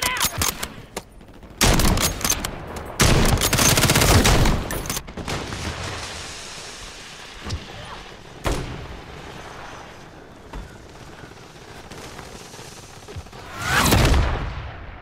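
Bursts of gunfire from the video game Call of Duty, with dense rapid volleys early on, scattered single shots in the middle and a loud blast near the end, with faint voices under the shooting.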